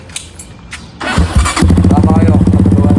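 A motorcycle engine cranks with a few sputters, then catches and settles into a loud, steady, rapid idle close by.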